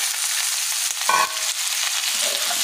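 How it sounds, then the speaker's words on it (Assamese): Fish frying in a pan gives a loud, continuous close sizzle, with a brief stirring clatter partway through and no voices. "এতিয়া এইকণ কেঁচা গোন্ধটো মৰালৈকে অকণ ভাজি ল'ব।"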